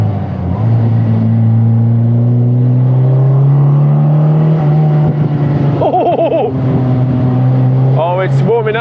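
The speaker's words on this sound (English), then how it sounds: "it's warming up now and we're getting some pops and bangs from the exhaust" An Austin-Healey sports car drives with its engine droning steadily at a low pitch from inside the cabin, and the exhaust gives rising crackles and pops near the end. Someone talks over it.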